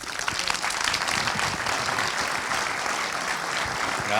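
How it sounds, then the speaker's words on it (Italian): An audience applauding a film director guest at a screening event, a steady, dense roar of many hands clapping close and loud throughout. "Un grande applauso al nostro ospite Alessandro Comodin."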